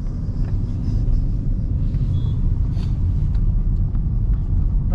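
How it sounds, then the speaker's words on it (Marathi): Road traffic with trucks passing produces a loud, steady low engine rumble close by, with faint higher clatter and a brief hiss through the stretch. "या रोडवर कंटिन्यू ट्रक्स असतात"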